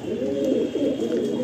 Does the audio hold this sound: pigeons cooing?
yes